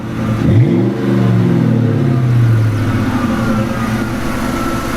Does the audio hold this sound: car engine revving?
yes